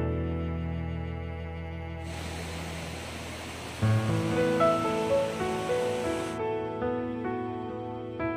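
A river rushes through a canyon in Zhangjiajie, China, as a steady hiss of flowing water that rises abruptly, holds for about four seconds and cuts off, layered over music.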